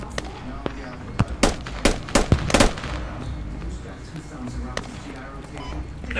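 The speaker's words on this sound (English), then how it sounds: "We're still taking sniper fire from 195 south." Sniper rifle shots in the tactical shooter Squad, several sharp cracks spaced irregularly over a couple of seconds, loud against steady battlefield background noise.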